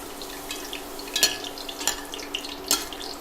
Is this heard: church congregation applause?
no